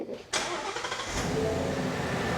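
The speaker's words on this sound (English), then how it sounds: "Got the engine running." DF kit car engine running on ethanol fuel cranks and catches, then settles into a steady, loud idle close by, with no talking.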